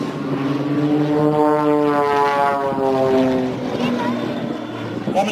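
Extra 330 aerobatic aircraft passing overhead, a loud propeller engine drone whose pitch sweeps downward as it goes by, sustained for several seconds before easing off.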